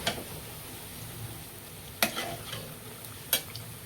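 Semolina gulgule fritters sizzle steadily in hot oil, with a couple of brief, sharp clicks as they are gently turned over.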